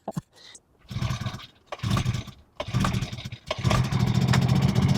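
A small, buzzy 49cc budget motorcycle engine, smoking, revs in bursts close by, rising and falling several times before settling into a steady, strained drone.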